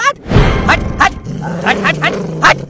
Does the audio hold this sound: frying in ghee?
no